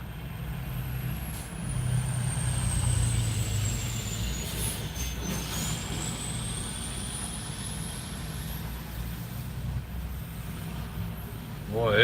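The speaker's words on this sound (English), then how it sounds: "Boy, his axles was making some noise." A truck with noisy axles rolls past up close, giving a long rumbling, grinding drone with a high whine sliding up and down, plus a brief air-brake hiss near the end. No one speaks.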